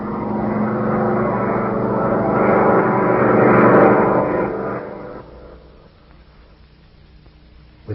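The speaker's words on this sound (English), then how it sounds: "The plane's starting its power dive." A radio-drama sound effect of a plane in a power dive roars loud and steady, swelling toward a peak before dropping away sharply into a quieter tail, with no talk over it.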